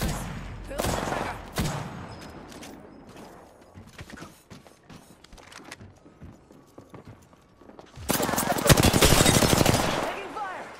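Rapid gunfire from a weapon in Apex Legends, a burst of dense automatic shots near the start and a louder sustained volley at the end, with quieter game noise and scattered clatter between.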